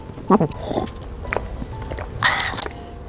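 A crunchy sesame cookie made with coconut sugar is bitten and chewed up close, a few crisp crunches sounding in quick bursts with soft mouth noises between them.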